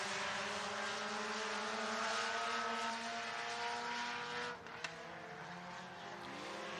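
Dirt track race cars at Boone Speedway roar together in a steady, distant blend of engine drone on the final lap, holding a continuous wash of sound with a brief dip and sharp click near the end.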